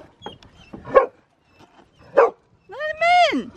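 Dogs bark at a door indoors, several sharp close barks spaced apart, ending in a longer rising-and-falling whining yelp, with a person speaking between them.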